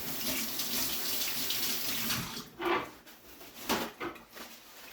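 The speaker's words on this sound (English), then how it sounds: "I gotta rinse my hands" Tap water pours steadily into a sink while hands are rinsed in a home kitchen, a close hissing stream broken by a few splashy shifts as the hands move under it, with no talking.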